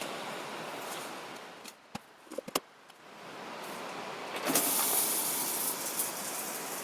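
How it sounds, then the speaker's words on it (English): Rice fries in a pan on a camp stove in the forest, a close steady hiss that swells louder toward the end, broken by a few sharp clicks and clinks, with no talking. "what I'm gonna do next is fry the rice in the pan"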